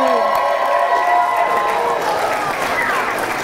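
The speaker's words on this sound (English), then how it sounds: "Round of applause." An audience at an elementary school Motown play applauds the performers, a continuous wash of clapping with cheering and crowd voices throughout.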